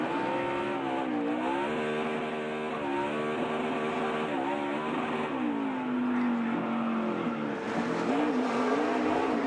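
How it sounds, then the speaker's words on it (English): A NASCAR Xfinity Series stock car drifts on the road course at Sonoma, its engine howling steadily with repeated rises and dips in pitch as it revs through the slide, loud and continuous. "Drifting is a really hard thing to do"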